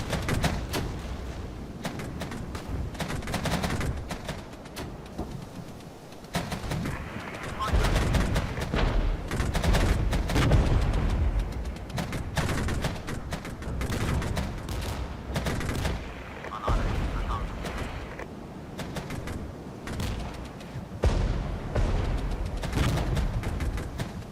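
Vehicles in the Regiments war video game fire guns in repeated bursts, dense crackling volleys and booms that come in waves with brief lulls, with a voice talking underneath at times.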